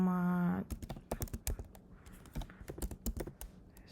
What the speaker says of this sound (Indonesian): Kita ketik http